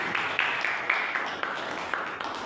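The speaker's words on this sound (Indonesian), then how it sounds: "Kasih tepuk tangan." Classroom applause after a student presentation in an Islamic studies class: steady, moderately loud group clapping throughout, with faint voices underneath.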